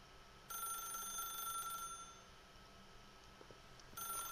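A telephone rings in The Stanley Parable video game, two bright electronic ringing bursts separated by a quiet gap, faint and clean with no talk over them.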